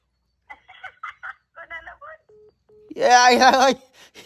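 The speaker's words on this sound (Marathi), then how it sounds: "हिनं फोन लावलाय" Two brief steady beeps sound like telephone dial tones, preceded by muffled chatter and followed by a louder voice speaking close by.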